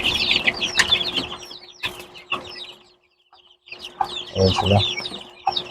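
Young chicks being prepared for moving to a new pen, peeping and clucking in quick chirpy bursts close by, with someone speaking briefly among them and a short quiet gap midway.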